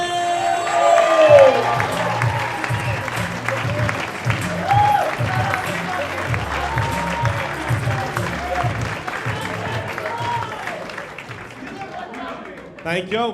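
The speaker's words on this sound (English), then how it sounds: "Ladies and gentlemen, start fucking clapping for Frenchy!" Comedy show audience applauding and cheering for a comedian taking the stage, sustained clapping with whoops that slowly tapers off, with a voice speaking over it at times.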